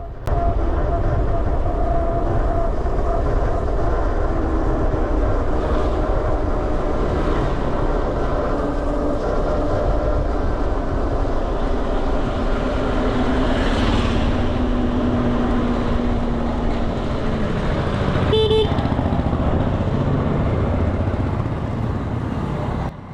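An Ola S1X electric scooter riding at speed, a steady, loud rushing drone of motor whine and wind noise that continues throughout, with a brief faint tonal chirp near the end.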